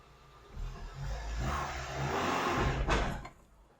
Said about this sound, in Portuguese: engatar a terceira marcha, freio de mão acionado e eu vou tentar sair com o veículo